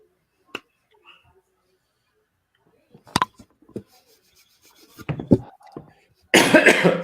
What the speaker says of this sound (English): First it was a burp. Now it's a cough.